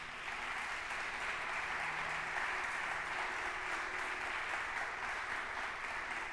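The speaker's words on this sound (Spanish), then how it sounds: "Démosle palmas fuertes al Señor" Sustained applause from a church congregation, a steady wash of clapping hands that holds at an even level for several seconds.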